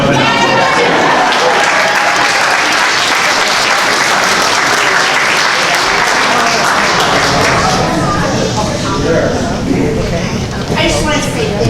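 A loud, sustained wash of applause from a town meeting audience fills the room, dense and continuous for the whole stretch, with crowd voices mixed in and a slight dip near the end.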